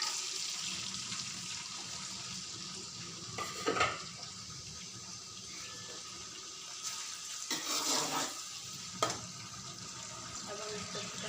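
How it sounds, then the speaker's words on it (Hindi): Ingredients for aloo chicken shorba being fried and stirred in a pan, with a steady sizzle under clattering utensil scrapes and a few sharper knocks, fairly close. "अब हम इसको अच्छी तरह से भून लेंगे।"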